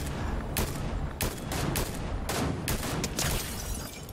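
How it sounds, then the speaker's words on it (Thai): Video game gunfire in Fortnite: a string of sharp shots in quick irregular bursts, several clustered near the start and more spaced through the rest, fairly loud over a constant rumbling background. "เอ๊ะเสียงปืนเหรอ"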